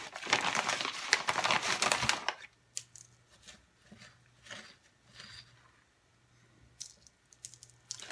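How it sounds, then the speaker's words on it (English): Loose bonsai soil is poured back into its bag with a loud crunchy rustle lasting about two seconds, then tapers into scattered small clicks and gritty taps as the last bits settle. "it looks like I put too much soil in there. So I'm going to put it back in the bag."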